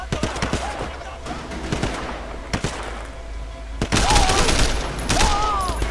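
Gunfire in the open-world crime game Sleeping Dogs, a scatter of sharp shots and short bursts at mid distance over a busy background of game noise, with a brief whistling tone near the end.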